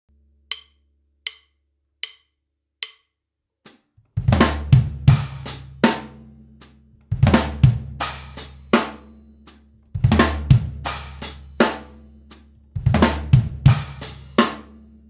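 Drum kit groove with fast double strokes, bass drum and hi-hat, starting with a few sparse clicks before a loud, dense pattern of repeated hits, close and alone.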